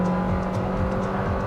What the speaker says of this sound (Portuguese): ele trocou marcha bem na hora da curva aqui